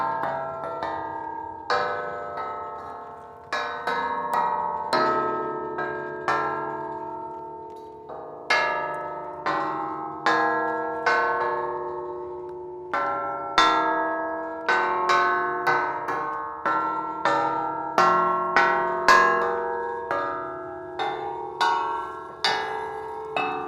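Repeated taps on a metal traffic control gate at Burley Crossing, each strike ringing out with a bell-like chime and decaying tone, struck in irregular clusters close up with no talking.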